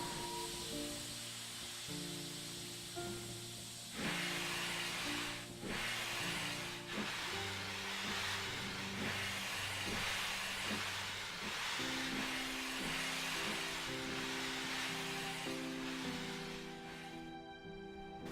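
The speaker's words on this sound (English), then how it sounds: "Slowly, the J-15 rolled out of the sheds into the turntable." A J-15 steam locomotive rolls slowly out of the sheds onto a turntable, with a continuous loud steam hiss and rhythmic chuffing bursts. Sustained tonal music-like layers run beneath throughout, and no one speaks.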